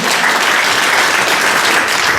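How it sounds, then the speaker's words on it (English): An audience applauds graduates of a hospitality staff training programme in Turkana, a dense, even burst of many hands clapping at once, loud and sustained across the whole stretch with no voices standing out. "Can we clap for them?"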